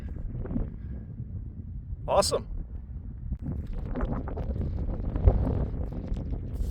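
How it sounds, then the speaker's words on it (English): Steady wind buffets the microphone with a low roar, and a person speaks briefly over it. "Still windy."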